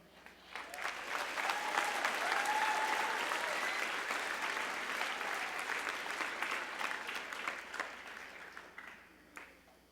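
An audience claps loudly and continuously, the applause swelling quickly, holding for several seconds, then gradually thinning out.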